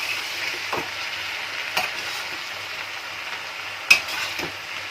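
A tempering of spices sizzles in a pan for a ridge gourd stir-fry, a steady close frying hiss broken by a few sharp taps of a utensil against the pan.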